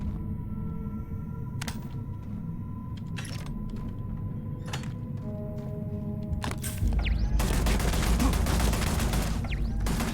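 A high-level turret opens fire in Starfield during deep cave exploration near a research post, sharp isolated shots at first, then a sustained loud burst of rapid fire with clattering impacts.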